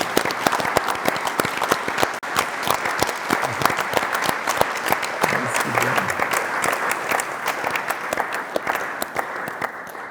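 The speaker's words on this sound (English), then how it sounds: "You may clap your hands now." An audience at an evening ceremony in the Deutsches Museum applauds steadily for about ten seconds, with dense, continuous clapping and a little crowd murmur underneath.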